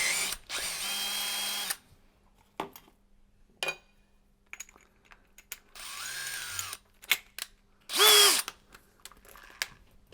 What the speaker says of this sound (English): We're now going to change to our socket and remember to go onto drill mode.